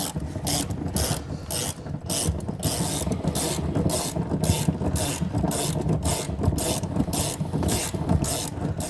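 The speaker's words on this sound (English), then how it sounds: "we're going to take a 21mm socket, and we're going to begin loosening that to lower the spare tire" A 21mm socket on a ratchet loosening the spare tire winch nut of a 2020 Hyundai Palisade, rapid continuous ratcheting clicks with grinding mechanical rubbing, close and steady for the whole stretch.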